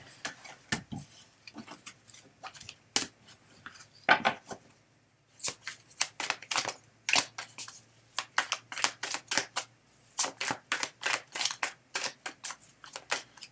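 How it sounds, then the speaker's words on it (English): Tarot cards are shuffled in quick bursts of crisp riffling clicks, repeated several times with short pauses between, close and fairly quiet. "As soon as I start to shuffle the cards."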